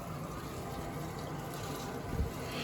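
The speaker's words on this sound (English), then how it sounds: "We're filling the boiler." Water rushes steadily into a home heating boiler through its feed valve, a constant, even hiss of flow with no voices.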